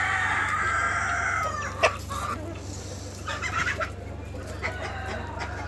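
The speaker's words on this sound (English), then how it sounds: "Chickens!" Chickens clucking steadily with a rooster crowing on a poultry farm that also raises ducks, turkeys and quail, the birds fairly close over a constant low hum, with a few sharper squawks breaking through.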